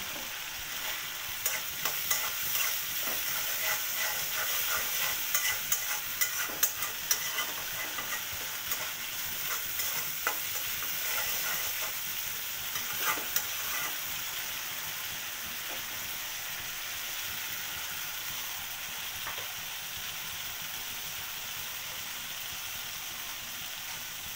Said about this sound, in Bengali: তো মশলাটা কষাচ্ছি, তার সাথে কাঁচামরিচ দিয়ে দিলাম